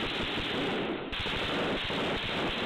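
Military gunfire in Culiacán, a dense continuous crackle of rapid shots that fills the whole stretch, harsh and loud without pause, with no voices heard.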